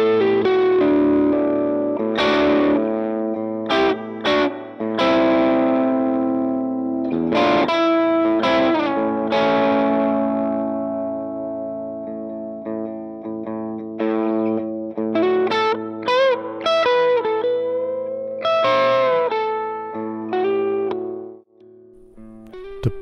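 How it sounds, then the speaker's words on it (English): Soyala Kloppmann electric guitar with mahogany body and neck, played through an Orange Tiny Terror amp; distorted chords and ringing melodic lines, moderately loud with sustained notes and a few pauses, fading toward the end. "So listen to this awesome guitar."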